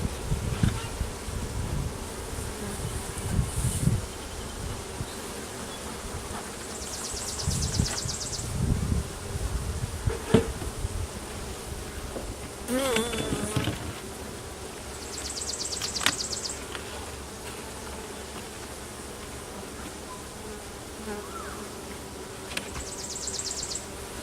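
Honeybees in an opened hive during an inspection make a constant, dense buzz, with individual bees droning past close by and occasional rustling and knocks of handling, and no talk over it.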